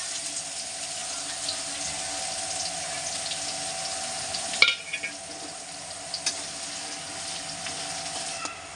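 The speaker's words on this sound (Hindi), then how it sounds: "प्याज को अच्छी तरीके से भूनेंगे गोल्डन ब्राउन होने तक" Chopped onions and green chillies fry in a pan over a medium gas flame, giving a soft, steady sizzle with a few scraping stirs partway through, fairly quiet and with no talk.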